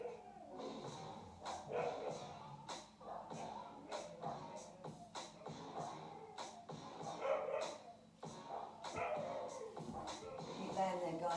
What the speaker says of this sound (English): I'm just going to hush my dogs.